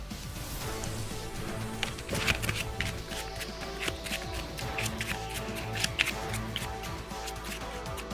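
Playing cards being shuffled during a Yu-Gi-Oh duel, with repeated riffling and crisp snapping bursts going on steadily throughout, close and fairly quiet, with no talking.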